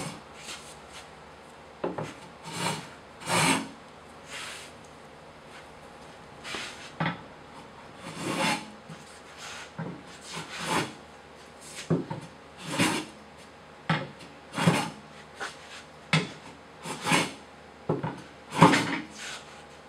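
Hand plane stroking across Australian hardwood end grain, taking very thin shavings, in a series of short rasping swishes at an irregular, unhurried rhythm, close and moderately loud with quiet gaps between passes.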